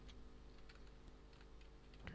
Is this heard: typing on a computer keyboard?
yes